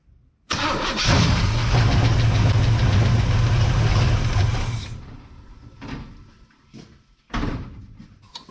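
A 1970 GMC truck engine with a carburetor that is not getting fuel cranks and runs loud and close for about four seconds, then cuts out, followed by a few short bursts of clatter.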